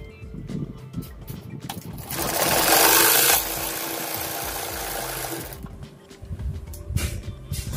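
A sewing machine stitching a kurta pajama, its motor running in a steady whirring burst that rises, holds and then eases off, close and fairly loud with no talk.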